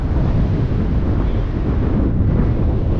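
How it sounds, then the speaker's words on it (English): Strong wind buffets the microphone on top of Glastonbury Tor, a loud, steady rushing roar with low rumbling gusts and no voices. "It's very windy"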